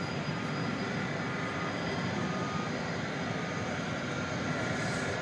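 A Boeing 737 Max 8 airliner at DFW Airport at night: a steady, broad jet-engine roar with a faint high whine, loud and unbroken throughout.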